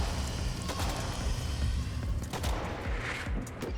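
Rapid gunfire in a video game, a dense run of sharp shots with a few louder cracks standing out, close and continuous throughout.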